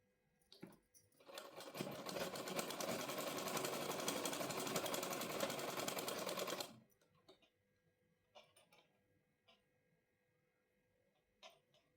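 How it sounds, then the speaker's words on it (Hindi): A sewing machine stitches along the edges of palazzo pants in one steady, rapid run of needle clatter lasting about five seconds, followed by a few soft handling clicks and quiet. "किनारे किनारे हमें सिलाई लगानी है"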